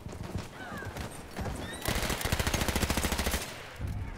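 Horse whinnies in Battlefield 1 multiplayer on PS4, a loud neigh with hoof clip-clop amid rapid bursts of machine-gun fire, no talk.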